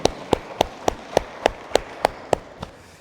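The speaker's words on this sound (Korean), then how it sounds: "박수 올리겠습니다." A congregation at a Korean church Sunday service in Berlin claps in steady unison, about ten crisp, evenly spaced claps roughly three per second, the last one softer, in a quiet reverberant hall.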